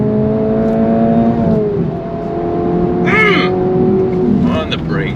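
A 2025 Acura Integra Type S engine revving hard toward 7,000 RPM while braked, steady rising harmonic drone with shifts in pitch, loud and close, with brief tire or chirp noises partway through.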